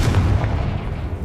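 A Confringo fire spell blast in Hogwarts Legacy, a single loud, close, deep booming burst that rolls off quickly.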